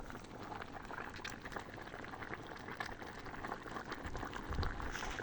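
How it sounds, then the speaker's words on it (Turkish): Chopped tomatoes bubble and simmer in a pot at a low level for tomato paste, with soft irregular pops that grow slightly louder toward the end. "Kaynasın bakalım."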